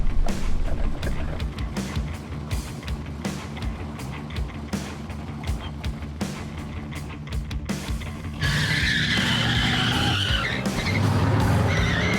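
Loud tires squeal and skid during a burnout by a Hurst/Olds with a 455 engine roaring underneath, growing harsher and more sustained toward the end.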